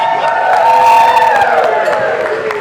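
Wedding guests cheer and whoop after a toast to the newlyweds, a loud, sustained crowd roar with shouts rising over it for a few seconds.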